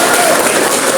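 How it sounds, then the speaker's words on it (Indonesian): A dense burst of applause from graduating trainees at a trainer certification event, loud and close, with a voice faintly mixed in. "Tepuk tangan ya buat diri kalian sendiri ya."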